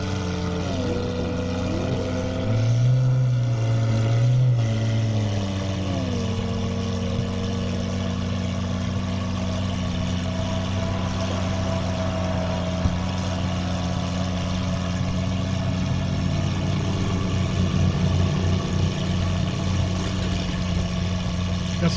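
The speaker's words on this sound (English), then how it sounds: "But listen to this Aventador." A Lamborghini Aventador at a half-mile airstrip drag race, its engine a loud, steady drone with shifting tones over a continuous background roar, a brief rising surge early on.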